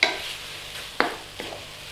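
Tomatoes stir-fried with scrambled eggs in a pan, Chinese home style, give a steady near sizzle broken by a few sharp scrapes of a utensil, with no voices.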